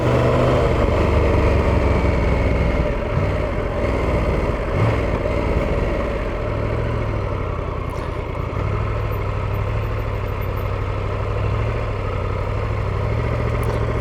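A Triumph Tiger 1200 GT motorcycle engine pulls smoothly while riding on twisty roads, a loud, steady mid-pitched drone with gentle swells as the throttle changes, close to the microphone and with no talk over it.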